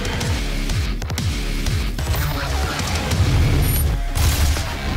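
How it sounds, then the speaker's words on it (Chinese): Rapid gunfire in DOOM, a dense sustained barrage of booming shots with loud game music and effects throughout and no pauses. "连开枪速度都变好快哦"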